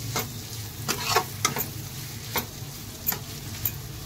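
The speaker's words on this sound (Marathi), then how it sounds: "आता आपण जे अंडे बारीक कापून घेतले होते, उकडून घेतलेली अंडी ती मिक्स करून घेऊ याच्यामध्ये" Chopped boiled eggs are stirred into a masala in a kadai for anda ghotala, with a low steady sizzle and a series of light, irregular taps and scrapes from the stirring spoon.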